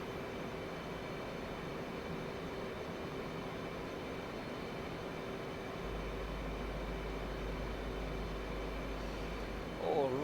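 An F/A-18C Hornet jet in the flight sim DCS gives a steady, even engine drone with a low rumble. It holds at a constant level and stands alone, with no talk.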